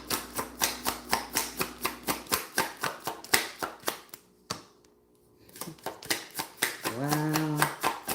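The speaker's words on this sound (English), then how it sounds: "One more shuffle." A deck of playing cards being shuffled in rapid, evenly spaced riffling snaps, close and crisp, pausing briefly midway before resuming, with a short voice near the end.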